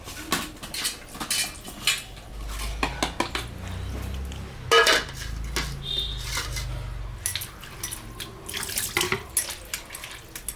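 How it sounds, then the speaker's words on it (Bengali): Cut pieces of moya fish being washed in a metal pot, with water splashing and drips, utensils clanking and scraping against the pot in irregular bursts, fairly close, no talking. "মাছটা কাটা হয়ে গেছে, আমি এখন ধুয়ে নিচ্ছি"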